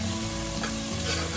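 Onions fry in a pan with a dense, steady sizzle and crackle, close and continuous throughout the short moment, with a faint stir near the middle and no voices.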